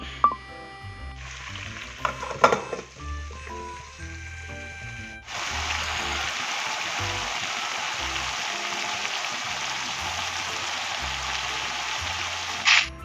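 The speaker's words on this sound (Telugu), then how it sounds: "బెండకాయ ముక్కలు అయితే ఆయిల్లో మంచిగా ఫ్రై అయినాయండి" Okra pieces frying in oil, first with clinks and scattered crackle, then a sudden loud, steady sizzle that holds close and even to the end.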